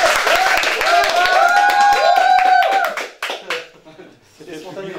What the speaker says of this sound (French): Applaudissez, c'est filmé quand même